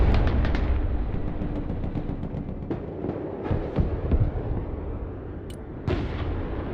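Battlefield barrage in the Broken Arrow war game as artillery opens fire on enemy fuel trucks: a continuous rumbling roar of distant booms and blasts, dense and loud throughout, with a sharper burst near the end and no talk.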